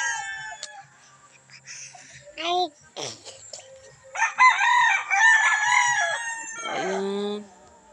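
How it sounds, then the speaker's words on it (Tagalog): Chickens cluck and roosters crow in a farmyard flock, several close, loud crows ringing out in turn with scattered clucks between, and a person talks now and then. "Ang dami talaga mga manok dito."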